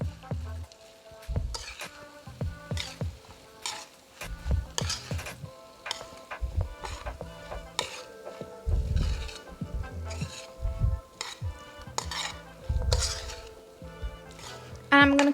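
Squash sizzling as it fries in a pan of curry, with repeated scraping, clinking stir strokes in an irregular rhythm, close and moderately quiet.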